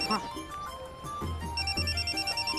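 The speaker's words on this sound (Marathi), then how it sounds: "अरे माझा फोन वाजतोय" A mobile phone plays a repeating electronic melodic ringtone, steady and close, while people talk over it.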